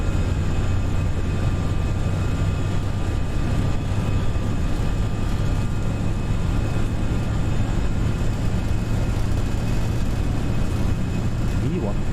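An airliner's engines run at takeoff thrust on a Frankfurt to Dublin flight, a steady loud cockpit roar with a constant low hum and faint tonal whine, and crew voices murmur beneath it throughout.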